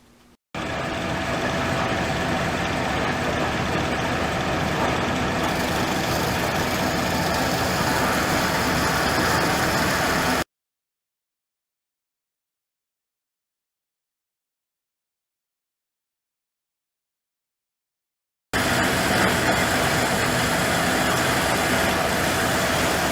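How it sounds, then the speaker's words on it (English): A bandsaw sections off the end of a metal part with a steady, loud mechanical drone, running for about ten seconds, then stopping dead before starting again for the final stretch. "we're going to go ahead and section this end off in the bandsaw"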